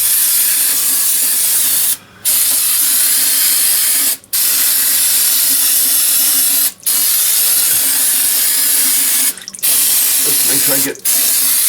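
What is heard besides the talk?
spraying brake cleaner on a rear differential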